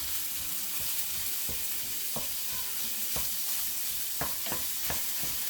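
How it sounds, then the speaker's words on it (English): Sausage fries in olive oil in a non-stick skillet, a steady close sizzle and crackle punctuated by a series of sharp scraping and tapping strokes as it is broken up, with no voices. "I put a little bit of olive oil in here just to get it started in my non-stick skillet"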